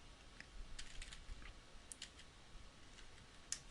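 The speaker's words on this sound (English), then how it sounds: "So I'm just going to type in a title here." A computer keyboard as someone types an event title into a calendar, heard as faint, sparse keystroke clicks in small uneven clusters against a quiet background.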